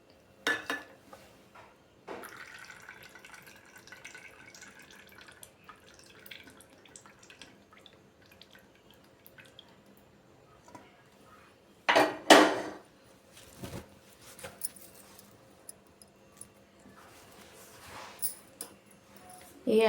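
Homemade face oil trickles into a bottle in quiet, sparse drips, with occasional glass and metal clinks and a few louder knocks against the container.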